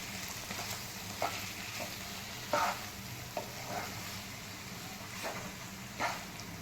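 A vegetable bhaji fries with a soft, continuous sizzle in a pan while a spatula stirs it, giving occasional scraping and tapping strokes every second or so over the hiss; no talking.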